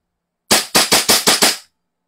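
A gun fires six sharp, evenly spaced shots in a quick burst during a review, loud and close, with no talking.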